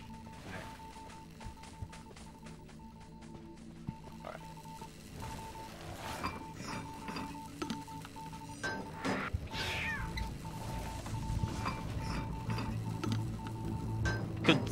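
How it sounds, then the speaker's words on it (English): A cat meows several times in a video game, heard over a steady electronic beeping tone and busy game sounds that build louder toward the end. "There's a cat."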